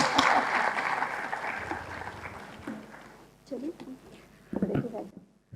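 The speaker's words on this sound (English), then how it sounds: "I want all of you to clap for ma'am." Applause rises from a conference audience, loud at first and thinning over several seconds, while a speaker begins talking over the fading claps.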